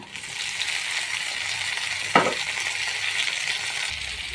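Tomatoes dropped into a pan of frying onions and shing fish, a steady bright sizzle with one sharp burst of crackle partway through before settling back to a constant hiss.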